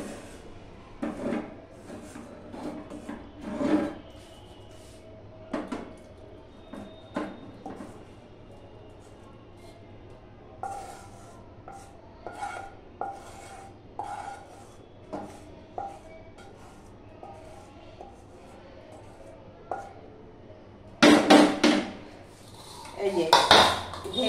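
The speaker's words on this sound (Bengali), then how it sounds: "এই যে ঢেলে এরকম পেতে দিচ্ছি" Peanut brittle (badam takti) mixture is poured from a pot and spread flat, with scattered metallic scrapes and clanks of pan and utensil, a sharp cluster of clatter near the end, and a voice talking between the sounds.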